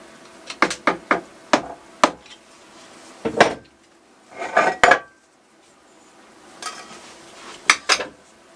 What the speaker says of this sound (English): So you need to get a screwdriver and again just tap that out of the way.